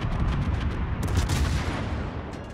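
Heavy naval guns of a Tier X Commonwealth cruiser fire in World of Warships, a deep booming salvo with a rumbling roll and a sharper second blast midway, loud and close with no talk.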